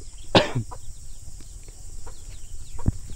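Native chickens and chicks in a backyard coop let out a couple of brief clucks and a sharp squawk over a low steady background hum, fairly close.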